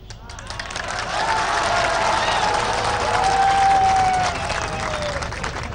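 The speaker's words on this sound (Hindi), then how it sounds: "तो बहुत तालियां बजी।" Audience applause at a local question-and-answer session with politicians in Varanasi, a steady, dense wash of many hands clapping with crowd noise that swells and holds throughout.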